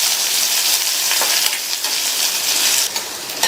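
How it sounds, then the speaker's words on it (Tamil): Chopped onion sautéing lightly in hot oil in a pan for a Tamil side dish, a steady crackling sizzle with occasional stirring scrapes and clicks, close and continuous. "வெங்காயத்தை இந்த மாதிரி லைட்டா வதக்கிட்டு"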